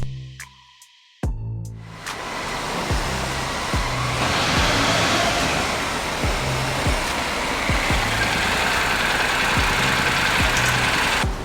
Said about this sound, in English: I'd like to introduce you to my brand new bike, my NC750.